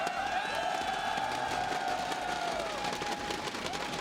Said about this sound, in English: crowd's pretty excited to see Jaedong come back